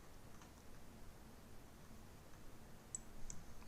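A few faint, quick mouse clicks land late, over a quiet room hiss with no talk, as an icon is selected in architectural design software.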